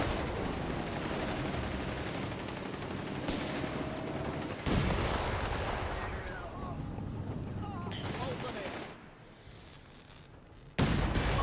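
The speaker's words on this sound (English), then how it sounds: "But now the AT gun gets a shot in." Anti-tank gun fire in a Company of Heroes 3 tournament match: heavy booming shots rise out of a dense, continuous battle din of gunfire and explosions, with a sharp blast near the end.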